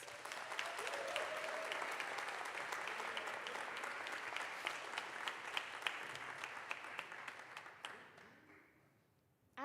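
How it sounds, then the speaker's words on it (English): An audience applauds graduates of a medical sciences master's class at a graduation ceremony, with sustained, dense clapping filling the hall for about eight seconds before it thins and fades out. "Let's all give them a round of applause"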